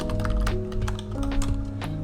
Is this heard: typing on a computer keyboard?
yes